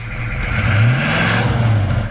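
A restored Toyota Land Cruiser 60 engine revs up through a Manta exhaust, a deep throaty rise that swells, holds, then eases back down, close and loud.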